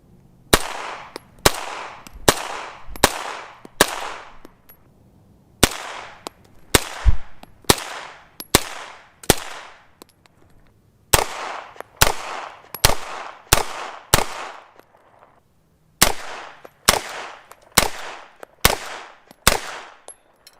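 Rifle shots fired through a Kaw Valley Precision Mach 3 compensator crack out loud and sharp, in quick strings of four or five with brief pauses between, each shot ending in a short ringing decay outdoors.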